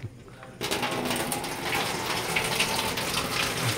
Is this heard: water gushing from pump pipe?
yes